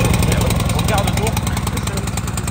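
A small pull-start engine, started by its recoil cord, runs with a steady rough chug throughout, loud and close, beside an off-road 4x4 outing.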